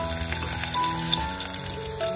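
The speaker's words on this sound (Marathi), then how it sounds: "इकडे मस्तपैकी आपली कढईमध्ये तेल काढून आपण याच्यामध्ये लसूण घालतोय" Garlic frying in hot oil in a kadai, a steady close sizzle with fine crackling and pops throughout, no voices.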